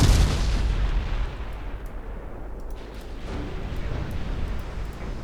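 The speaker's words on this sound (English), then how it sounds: "So much of that ammo blew up." Ship ammunition explodes in the naval strategy game Ultimate Admiral Dreadnoughts, a heavy boom at the start that rolls into a long, rumbling decay with a few faint distant pops.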